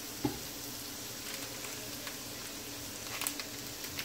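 Shrimp frying in a pan as Maggi ginger seasoning is stirred in, giving a quiet, steady sizzle with a faint clink or scrape near the start and another near the end, without any talk.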